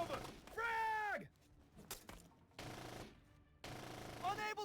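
Gunfire in the squad-based military game Full Spectrum Warrior: sharp bursts and rattling shots between clipped radio-style voices talking.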